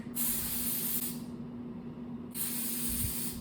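Two bursts of spraying hiss from an aerosol can of cake colouring sprayed onto a cake, each lasting about a second, separated by a short pause, close and fairly loud.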